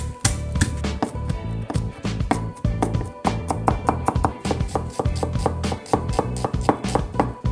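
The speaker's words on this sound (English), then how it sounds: "So what you want to do with garlic is you gotta chop it finely, really finely" Garlic being finely chopped with a knife on a board while camp cooking, a fast, steady run of sharp close taps with no talking.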